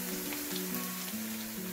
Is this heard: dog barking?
no